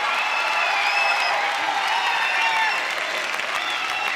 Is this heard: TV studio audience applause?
yes